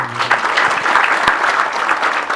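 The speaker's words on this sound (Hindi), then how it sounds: "भाई ताली बजाओ।" Audience clapping steadily at a gathering where people are pledging to quit tobacco, a dense burst of many hands lasting the whole stretch at even, fairly loud volume.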